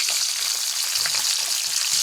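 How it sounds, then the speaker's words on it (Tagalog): Tilapia and eggplant fry in hot oil with a steady, dense sizzle and crackle that stays loud and even throughout, with no voices. "Pritong talong guys. Saka pritong tilapia."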